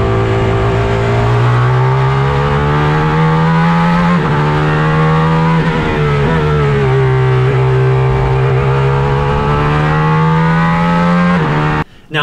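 Aston Martin Valkyrie V12 engine on track at Laguna Seca, a loud sustained high-pitched wail heard from inside the car, the pitch shifting with throttle and gear changes, cutting briefly near the end.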